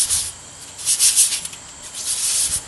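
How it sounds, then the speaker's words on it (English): A thick wooden wedge block for hardtailing a Stratocaster-style guitar is sanded smooth by hand, giving steady close-up rubbing strokes with a hissy, scratchy texture that swells and fades in repeated passes. "we'll sand down our thick wedge here, get it nice and smooth"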